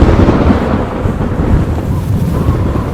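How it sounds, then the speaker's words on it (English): Thunder from lightning bolts striking the swelling sea rolls as a loud, continuous low rumble for three seconds without a break, with no voices. "3 bolts of lightning, all with immaculate timing, hit the surface of the swelling seawater"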